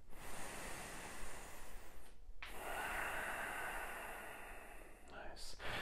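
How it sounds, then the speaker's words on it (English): Slow yoga breathing close to the microphone, a long airy inhale, a short pause, then a long whooshing exhale, soft and breathy. "One more breath."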